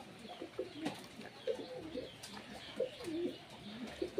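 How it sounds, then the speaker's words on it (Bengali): Pet pigeons, including a white one, coo softly indoors during rain, giving several low, rolling coos in an irregular rhythm over quiet room noise. "পায়রা কোয়ালিটিটা দেখুন, খুব সুন্দর একটা পায়রা।"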